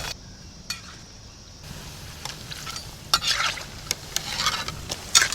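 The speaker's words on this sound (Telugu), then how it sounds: "బాగా ఫ్రై అయినట్టు చూసుకోవాలండి." Potato bondas deep frying in hot oil in a village kitchen give a steady bubbling sizzle, with a few sharp clinks and scrapes of a utensil stirring through it, close and fairly quiet.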